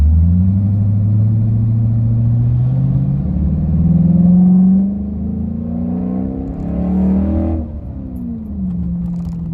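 A 2006 Chrysler 300 with a Hemi V8 pulls away from a traffic light, its loud engine rumble rising steadily in pitch through the gears, then easing off into a steady cruise.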